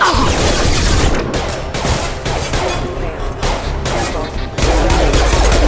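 In the video game Mass Effect 2, dense, loud gunfire rattles in sustained bursts with booming impacts, nearly continuous and filling the mix, with brief lulls between volleys.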